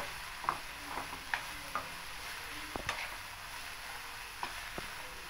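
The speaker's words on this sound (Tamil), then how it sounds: "அதை நம்ம இந்த பூசணிக்காவை இதில் கொஞ்ச நேரம் நல்லா வேக விடுறோம்." Pieces of white pumpkin cook in ghee in a pan for halwa, making a quiet, soft sizzle broken by scattered light clicks and taps from stirring.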